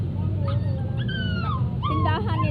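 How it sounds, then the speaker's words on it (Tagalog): A dog whimpers and yips in short, rising cries from inside a locked shop, with a steady low background hum throughout. "May umiiyak na aso sa loob."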